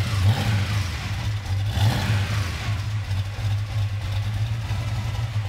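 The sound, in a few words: gear-driven engine whine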